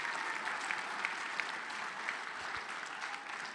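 Steady applause from a gala fundraising audience cheering donors, a dense even wash of many hands clapping at moderate volume with no voices over it.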